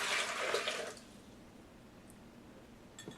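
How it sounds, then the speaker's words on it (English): Water pours into the container of a DynaPro 2.5 HP commercial vacuum blender, a steady splashing rush for about a second that then cuts off into quiet. "we're going to go ahead and pour in all our water right here."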